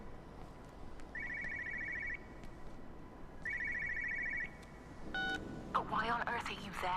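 A telephone rings in two short trilling bursts, then a brighter, rapid ring sound with a voice over it, in the game Everybody's Gone to the Rapture.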